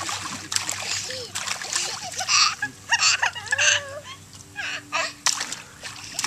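A small child splashes in bath water in quick, irregular bursts, close by, with brief vocal sounds mixed in.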